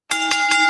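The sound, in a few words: bell ringing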